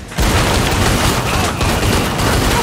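Rapid, loud gunfire erupts while shooting enemies in Killing Floor 2, a dense continuous burst of shots and booms filling the whole stretch with no talk over it.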